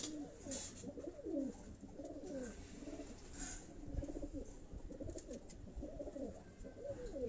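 Several domestic pigeons of a cupboard-bred line coo in low, repeated rolling phrases close by, steady and continuous, with a few faint higher chirps behind them.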